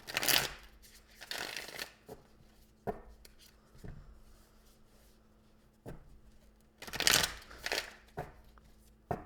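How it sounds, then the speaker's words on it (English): A tarot deck is shuffled by hand in several bursts of crisp riffling, with the cards fluttering against one another and quiet pauses between the bursts, close and moderately loud. "So let me give it a good shuffle here"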